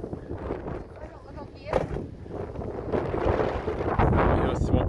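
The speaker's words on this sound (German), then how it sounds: "viel Wind hier vorne." Gusty coastal wind on the Sardinian Mediterranean shore during an evening walk, buffeting the microphone in uneven rumbling bursts that swell and ease, growing stronger toward the end.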